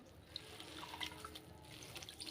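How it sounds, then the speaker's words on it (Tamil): Bread is soaked in water and squeezed out by hand while making sago vadai, giving faint wet splashes, drips and trickles with small sharp clicks at low volume. "நல்லா தண்ணியில் வந்து நனைச்சிட்டு நல்லா பிழிஞ்சு எடுத்துட்டு அப்படியே அதில் சேர்த்துக்கலாம்"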